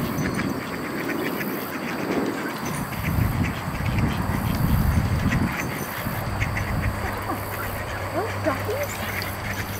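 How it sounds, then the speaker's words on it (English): Ducks quack on and off outdoors at a moderate distance amid steady background noise and rumble, while a person speaks at times. "Look at all the ducks there, Rudy."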